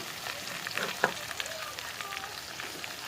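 A mixed spice paste with chopped tomato fries in hot oil in a home kitchen, a steady soft sizzle with occasional stirring clicks, no talk.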